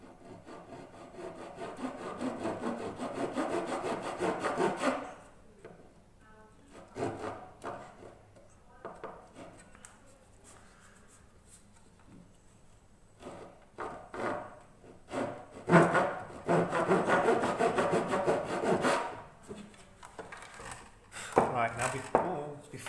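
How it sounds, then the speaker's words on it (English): Freehand hand sawing of the first fret slot in wood for a mountain dulcimer, with bursts of steady back-and-forth rasping strokes, close and fairly loud, broken by quieter pauses. "I want to make sure I cut that first fret really well"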